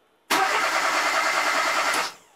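A car engine cranks without catching, held back by a homemade anti-theft device: a steady, loud starter whir running about two seconds with no firing or idle afterward, alone with no talk.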